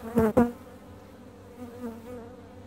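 Honey bees from an overwintered swarm, once removed from a chimney, buzz close by at the hive, with two loud passes early on and a softer hum continuing afterward.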